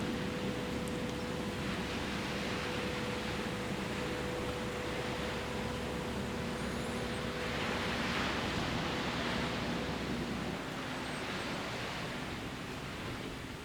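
Steady broadband surf from calm ocean waves washing onto the beach at East Point in Darwin, a soft continuous wash with gentle swells rising and falling and no voices.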